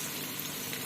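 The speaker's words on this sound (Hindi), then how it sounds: "मैंने मसाला अब अच्छी तरह भून लिया है।" Masala with minced keema, onions and mashed tomatoes fries in a pan for a brief moment, a soft, steady sizzle heard up close with no voices.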